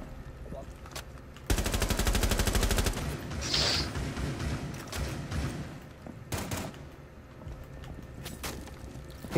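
Automatic rifle fire in the game Rainbow Six Siege, a loud rapid burst lasting about a second and a half, followed by further scattered shots and thuds, with a player's voice briefly heard over the action.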